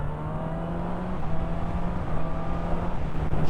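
A 2023 Honda CB1000R motorcycle pulls a third-gear roll-on, a steady engine drone rising slightly under heavy wind rush, continuous and close.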